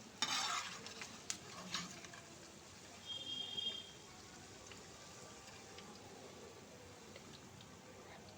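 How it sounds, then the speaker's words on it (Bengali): Flattened rice (chira) mixture fries in a pan and is stirred, with a few sharp clatters early on, then a faint steady sizzle that stays quiet. "এগুলোকে আমি এরকমভাবে লাল লাল করে একটু ভেজে নেব"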